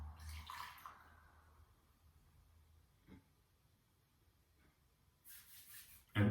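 Light, floral white tea poured into a bowl, a faint, quiet trickle of liquid with brief splashy bursts at the start and end.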